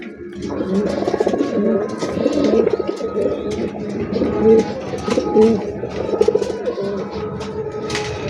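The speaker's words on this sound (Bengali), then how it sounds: "এই 4 জোড়া কবুতর আছে" Rajshahi Mili Giribaz pigeons in a loft coo repeatedly at close range, soft throaty calls overlapping in a busy rhythm with faint background chatter.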